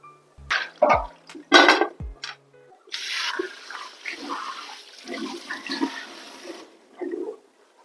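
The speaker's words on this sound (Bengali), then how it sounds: "খুব হালকা হাতেই কাঁকড়াগুলোকে আমি ধুয়ে পরিষ্কার করে নিলাম।" Crabs being rinsed by hand in water, close splashing and sloshing with a few sharp knocks of shell against a bowl, then a steady run of pouring water with soft gurgles.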